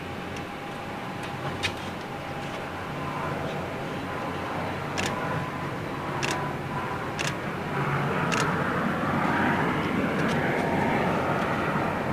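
Light jet aircraft make a steady, broad roar that swells gradually, heard at a distance under a faint talking voice, with a few soft ticking clicks close by.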